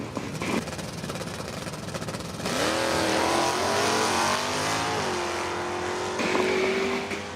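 Drag racing cars, among them a 94 Camaro, at Numidia Dragway during the Class Racer Nationals, with a loud engine roar that builds as the cars launch and rev, rising and shifting pitch tones, and the crowd and track noise underneath.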